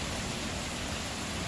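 Heavy rain pours steadily into a backyard pool as a dense, even hiss with no letup, fairly soft overall and with no voices.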